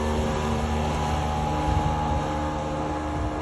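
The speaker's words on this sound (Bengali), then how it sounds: "দেখেন নদীর মাঝখানে স্পিডবোট" A speedboat running out in the middle of a river gives a steady, continuous engine drone with a broad rumbling wash. It holds at an even level throughout, with no voices.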